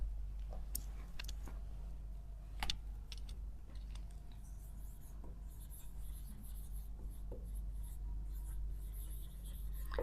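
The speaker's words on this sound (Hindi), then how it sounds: "डाइजेस्टिव सिस्टम लिखेंगे हम सीधा सीधा।" Chalk or marker strokes writing "digestive system" during a biology lesson on human digestion, a series of short scratchy taps and strokes over a steady low background hum, no talking.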